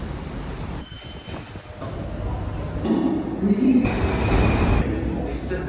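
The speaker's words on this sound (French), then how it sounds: "J'ai débarqué pour ensuite de ça prendre le métro." Paris metro ride with a steady rumble of the train rolling along, rising and swelling partway through, heard from inside a carriage with some background voices.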